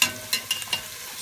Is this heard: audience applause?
no